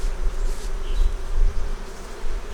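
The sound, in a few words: honey bees buzzing at the hive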